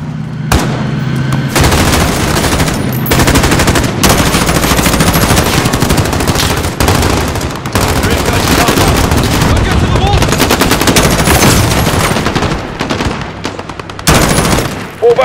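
A sustained firefight in Call of Duty Modern Warfare, with loud, dense automatic gunfire and heavy bursts roaring almost continuously for about fifteen seconds, punctuated by a few short gaps.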